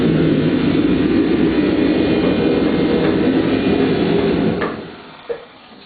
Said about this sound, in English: get the heater kicking off